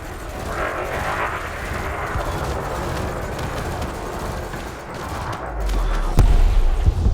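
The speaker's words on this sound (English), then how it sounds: "You may have noticed that multi-cannons are effective against unshielded targets." Multi-cannons fire in the space game Elite Dangerous as a continuous, dense rattling barrage that runs loud through the whole stretch and grows heavier near the end, with no talking.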